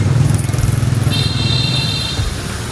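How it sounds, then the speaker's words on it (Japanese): Loud, busy street traffic in Hanoi, Vietnam, with motorbike engines rumbling close by, continuous and churning, with a brief high-pitched horn toot in the middle. "バイクの音がすごいです"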